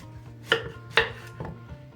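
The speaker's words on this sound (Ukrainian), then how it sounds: "І буду різати салеру." Celery is chopped with a knife on a board, three distinct close thuds spaced about half a second apart over a low background hum.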